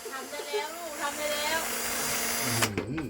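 A power drill whines steadily while someone talks over it, then the malfunctioning motor cuts out abruptly.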